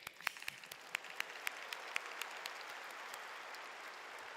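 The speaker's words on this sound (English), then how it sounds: "Oh, big clap" A large audience at a university commencement ceremony applauds with a spread-out wash of clapping heard from a distance, with a few sharper nearby claps standing out before it thins.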